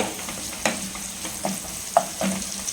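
Mustard seeds hitting hot oil for a spicy Tamil garlic kuzhambu, giving a soft steady sizzle broken by a few sharp pops and crackles at irregular moments, close and moderately loud with no voices.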